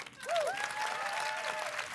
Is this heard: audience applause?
yes